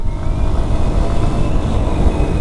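A Honda Hornet 2.0 motorcycle, low on fuel, revving under throttle: a loud, close, rumbling engine roar holding steady for a couple of seconds without voices.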